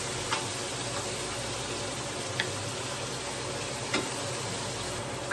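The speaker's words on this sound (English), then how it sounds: "Keep your flame on medium and allow these to saute" Seasonings for Jamaican-style rice sautéing in a pan over a medium flame, a steady close hiss of sizzling with a few faint ticks of the utensil, no talking.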